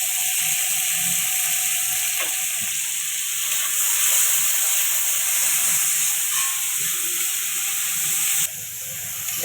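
Tomato and salt sizzle with onion in a frying pan, a steady loud hiss of frying that runs throughout with small crackles and no talk.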